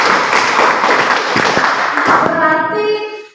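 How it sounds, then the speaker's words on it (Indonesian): A classroom group of students claps for a presenting group during a school lesson, loud close applause from many hands that fades as a sustained tone and a few voices emerge at the end. "Tepuk tangan untuk Sitokin"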